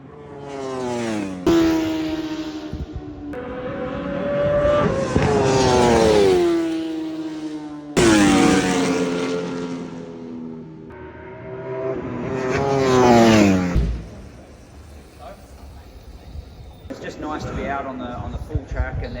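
Superstock racing motorcycles on a race track, their engines screaming past one after another with rising and falling pitch sweeps as each bike accelerates, shifts gears and fades, loud and close.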